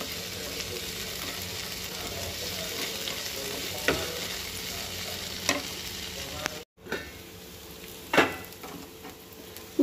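Bitter gourd frying in a pan gives a continuous, moderately loud sizzle, with occasional clinks and scrapes of stirring in a home kitchen.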